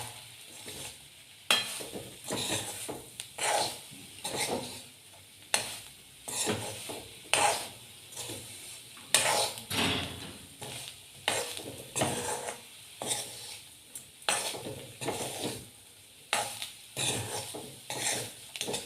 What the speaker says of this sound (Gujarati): છાંટી અને પછી આમ હલાવી નાખવાનું.